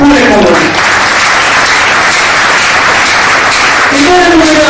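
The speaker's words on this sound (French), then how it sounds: "Applaudissons très très fort pour les Congolais." Loud, close crowd applause at a Congolese political party rally, vigorous clapping with a faint shout or voice fragment at the start and again near the end as it continues.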